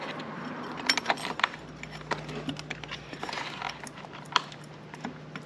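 Light metallic clinks and jangles come from a castle washer and nut being fitted by hand onto a Honda Navi scooter's CVT transmission, soft and close with scattered small taps.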